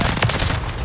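Gunfire in the video game Call of Duty: Modern Warfare 3, a short, dense burst of rapid automatic shots that stays loud and close throughout.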